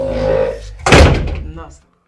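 A house door in a domestic drama scene gives a single solid thunk as it is opened or shut, following a voice and ringing out briefly before silence.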